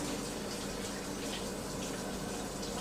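A running tap pours a steady, close stream of water over washing hands at a kitchen sink, a continuous hiss with no pauses.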